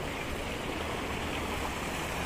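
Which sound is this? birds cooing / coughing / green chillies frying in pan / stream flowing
stream flowing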